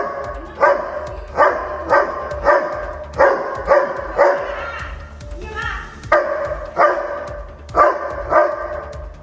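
A pet dog barks repeatedly at a snake that has entered a home garden, a steady run of loud, close barks in regular bursts with a brief pause midway, over faint background noise.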